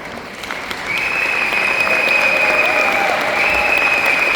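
A seminar audience in Budapest breaks into loud, sustained applause and cheering that swells after the first second and carries on evenly to the end.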